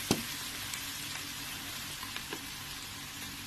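Steady loud sizzling of chicken sausage and vegetable macaroni frying in a pan while black pepper powder is stirred in, with a couple of utensil scrapes and knocks breaking through the constant hiss.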